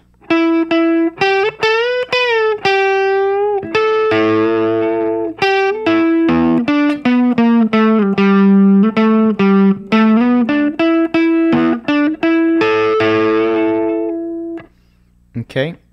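Electric guitar with effects plays a sustained, bending blues solo line, loud and continuous with many quick note changes and slides over about fifteen seconds, fading at the end.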